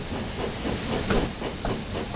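James, a steam engine from Thomas & Friends, gives off a steady, close hiss of steam with soft rhythmic chuffs pulsing underneath.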